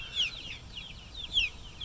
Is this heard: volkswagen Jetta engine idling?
no